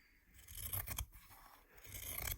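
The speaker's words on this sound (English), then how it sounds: "just use your pinking scissors and trim quite close to your stitch line" Pinking scissors snip through fabric up close, two crisp cutting strokes with a brief pause between them, quiet and alone.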